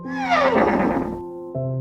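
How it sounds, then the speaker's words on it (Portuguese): A horse gives a loud, close whinny of surprise, a falling neigh lasting about a second, followed by a brief steady tone with no other sounds. "A princípio, o cavalo apenas relinchou de surpresa."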